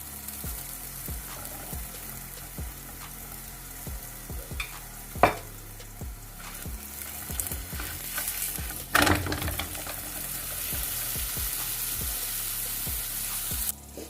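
Makki ki roti sizzles steadily on a griddle with ghee and oil, a continuous close frying hiss broken by occasional taps and scrapes.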